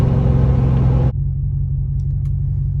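A Jeep Wrangler JL Rubicon 392 on big tires drives along with a loud, deep engine and road rumble, which drops abruptly to a lower, steadier drone partway through.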